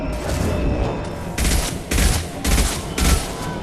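Assault rifle fire in Mass Effect 2 rattles out in four or five short, punchy bursts at a steady rhythm, loud and close over a low rumbling combat background.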